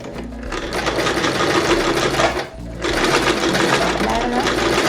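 A sewing machine set to its longest stitch runs steadily, stitching in a zipper, with a brief pause midway before the motor resumes its rapid, continuous whir.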